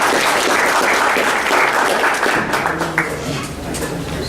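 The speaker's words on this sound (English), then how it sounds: "with a big round of applause to share his knowledge and answers" Sustained applause from an audience welcoming guest speaker Ashok Sharma at a Great Lakes IEMR event, a dense steady clatter of many hands that thins slightly toward the end.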